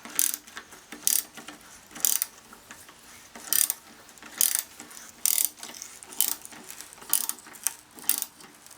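A ratchet driving bolts into a Rover mulcher: steady clicking bursts repeat about once per second, close and clear over faint background noise, with no speech.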